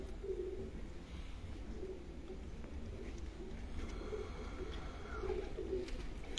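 Red-eyed pigeons softly cooing in low, repeated burbling phrases, faint and somewhat distant within a steady background hum of a loft or yard.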